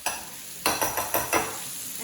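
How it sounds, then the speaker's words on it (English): Cream cheese is stirred in a hot pan, several sharp scraping strokes in a quick run over a soft background sizzle, close and fairly loud. "Okay, it's going to get loud because we're mixing and sizzling."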